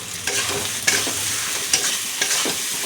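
Potatoes stir-fried with spice paste in a pan, a close, loud continuous sizzle broken by several sharp spatula scrapes and clacks, no voices.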